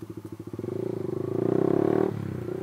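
A remapped Honda Sonic 150R motorcycle engine putters rapidly, then revs up louder and steadier before easing back, close and without talk.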